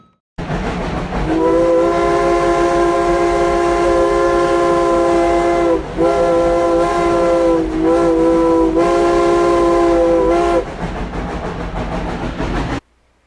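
Tweetsie Railroad steam locomotive number 190 sounds its whistle as it hauls a train past. Loud, sustained blasts come in several long stretches broken by brief gaps, with rail clatter underneath and no voices.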